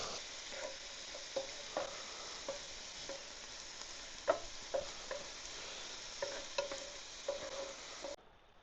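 A sausage casserole with Worcestershire sauce cooks in a pan at a campsite by the Deua River, giving a constant soft sizzle broken by regular scraping stirs of a utensil, with no voices.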